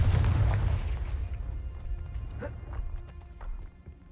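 A Confringo spell blast in Hogwarts Legacy: a heavy low boom at the start that decays into a rumbling tail, with a sharp crackling burst midway and fainter pops fading out.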